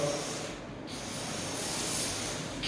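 Cleaner is sprayed onto the walls of a locker room shower in continuous hissing bursts, close and fairly quiet, with a short pause between sprays.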